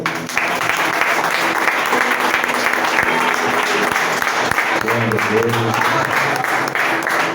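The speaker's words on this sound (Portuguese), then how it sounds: "Vamos aplaudir o Senhor." A church congregation at a Friday worship service applauds loudly and continuously, a dense wash of clapping with a few voices rising briefly through it.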